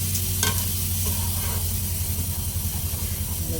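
A pot of rasam bubbles and simmers steadily with a soft, continuous hiss and low rumble, close by, with no voices.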